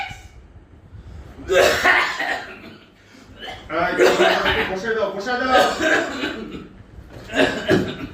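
Exaggerated fits of harsh, hacking coughing from a man acting out whooping cough in a comedy skit, several loud bursts spread across the stretch, mixed with voices talking.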